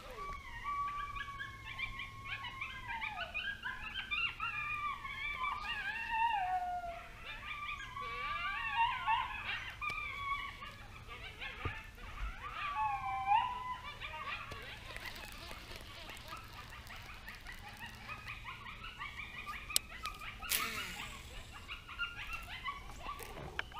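Distant high-pitched yips and wavering howls from a group of separated coyote pups, rising and falling over a quiet outdoor background.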